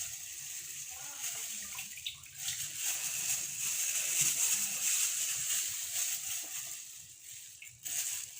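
Betel leaf water being poured and strained, a steady watery rush and trickle with a faint gritty crunch, continuous for about eight seconds with a brief dip near the two-second mark and a surge near the end.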